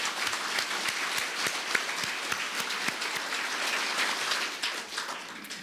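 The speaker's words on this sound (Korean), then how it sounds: "우리 승리하신 참 부모님께 영광의 박수를 한번 올려주시기 바랍니다." A large audience at the inauguration ceremony of a Unification Group chairman gives sustained, dense applause, loud and even from start to finish, with individual claps standing out now and then.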